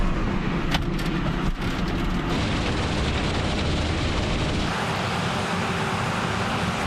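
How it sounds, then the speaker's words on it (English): Fourteen combine harvesters and about a dozen grain trucks work a field, producing a steady, heavy engine rumble with broadband mechanical noise throughout and no talking. "You got 14 combines out here filling about 12 trucks with grain"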